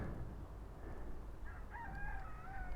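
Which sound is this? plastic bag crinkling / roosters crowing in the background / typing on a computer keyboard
roosters crowing in the background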